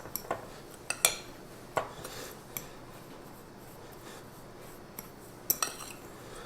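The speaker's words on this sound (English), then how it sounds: "I'm going to mix this in a little bit just to mix it in." A utensil clinks and scrapes against a bowl in scattered taps while chocolate protein muffin batter with sweetener is stirred, close and fairly quiet, with no talking.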